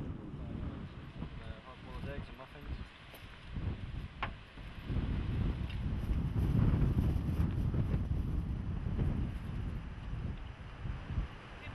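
Wind gusting across open Serengeti plains during a meal, buffeting the microphone in rough low surges that build toward the middle, with a voice speaking over it at first.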